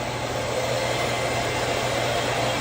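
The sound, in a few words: Shark Vertex vacuum cleaner running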